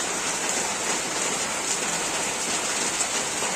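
Heavy rain pours down steadily outdoors in a continuous dense hiss, with no talking.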